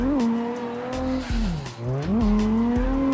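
A drifting car's tires squeal loudly and continuously in CarX Drift Racing, the pitch dipping and rising as the engine revs swing up and down through the slide, with no talk.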